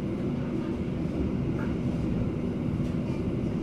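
Steady low rumble and hum of a train at the Cipinang rail depot in Jakarta, where a red-blue locomotive stands, heard as a continuous loud drone from inside the moving train.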